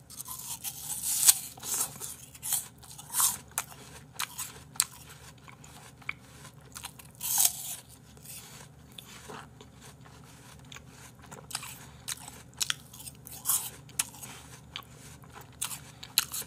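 An expensive apple is bitten and chewed close up, with sharp crunchy bites standing out every few seconds over a steady wet chewing crunch, no talking.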